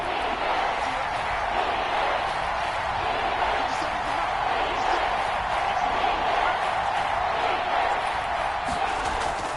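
A steady, dense roar rises from the stadium crowd at a 49ers versus Eagles football game ahead of a big third down, a constant wash of noise with no distinct peaks and talk faintly mixed in.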